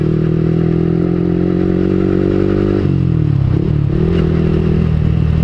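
A motorcycle engine fitted with a borrowed aftermarket exhaust idles loudly and close, a steady deep drone that dips and shifts pitch briefly near the middle before settling.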